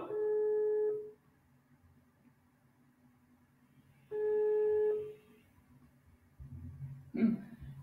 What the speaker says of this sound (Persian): تلفنش نمیگیره